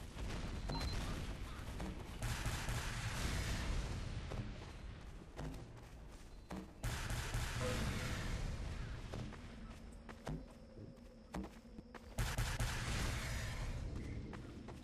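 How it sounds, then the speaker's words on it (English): Video game gunfire keeps up in scattered bursts mixed with heavier thuds and booms, fairly faint and distant in a busy battle soundscape. "Just shooting at random."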